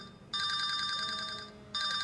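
A telephone rings with an electronic ringtone, a long trilling burst followed by a pause and the start of a second ring, clear and close in a quiet room.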